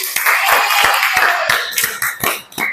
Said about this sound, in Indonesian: Ya, tepuk tangan lagi.